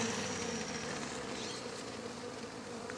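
Steady, dense buzzing of many agitated honeybees close by from an aggressive colony, an agitated swarm hum that holds at an even level throughout with no voices.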